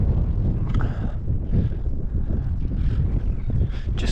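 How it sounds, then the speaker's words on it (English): Gusty wind buffets the microphone in loud, uneven rumbling bursts that rise and fall throughout, with no other clear sounds. "Yes, a little bit windy."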